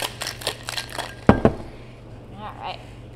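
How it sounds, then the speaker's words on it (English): A cocktail shaker full of ice is shaken for a cocktail: a quick rhythmic rattle of ice against metal, then a couple of sharp clinks and a quieter tail. "We can pop on our shaker and give this guy a shake for about 20 seconds."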